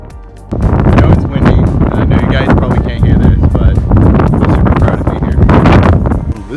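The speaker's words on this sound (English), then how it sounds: "I know it's windy" Strong wind buffets the microphone on the open deck of the World War II aircraft carrier USS Lexington, a loud continuous roar with gusty surges, and a voice talks over it throughout.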